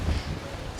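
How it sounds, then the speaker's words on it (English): Strong gusts at Cape Manzamo on the Okinawa coast buffet the microphone, making a steady, loud, low roar for a brief moment. "the wind is going crazy. Super windy."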